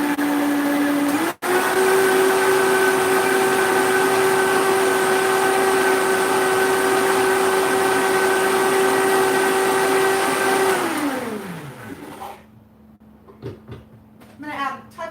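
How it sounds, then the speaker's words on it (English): A loud blender whirs steadily while mixing a lemon tahini salad dressing, running at a constant high pitch for about ten seconds before winding down in a falling whine, followed by quiet clattering. "All right, warning, loud blender."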